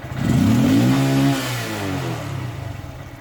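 A Honda Grom motorcycle engine with a modified air intake revs hard in one rising and falling sweep, loud and close, then settles back toward idle with a lumpy, clattering note.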